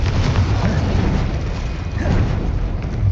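A Confringo fire-blast spell detonates in Hogwarts Legacy amid a busy magical duel, a dense continuous roar of booming explosive rumble with low-end weight, heavy and steady throughout.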